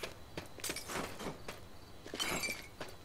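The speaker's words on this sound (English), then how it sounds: "Break that glass, man." Glass shatters repeatedly in the video game H1Z1, several sharp breaking crashes and tinkles scattered over a few seconds, fairly quiet and close.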